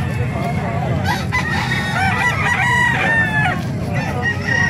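Roosters crow loudly and repeatedly over clucking chickens at a poultry market in Calumpit, Bulacan, with a constant close din of birds and crowd noise.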